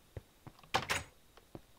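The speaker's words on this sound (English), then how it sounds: "Are you the one opening my, like, door?" Minecraft door opening: a few soft thunks spaced apart, with a louder double clack in the middle, quiet and close with no talk over it.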